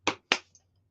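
Two sharp, close hand claps ring out about a quarter second apart in a quiet room, each crisp and isolated, followed by a faint small tap and then silence.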